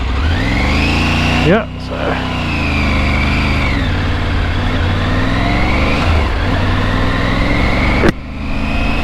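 A motorcycle rides along the road with the engine droning loud and near, its pitch rising and falling through gear changes, under wind noise and brief talk from the rider.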